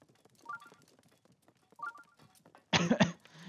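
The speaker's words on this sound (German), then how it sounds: "Ich weiß nicht, warum ich immer noch Husten habe." Two faint, muffled coughs from a person with a lingering cough, followed by a louder harsh burst close to the microphone.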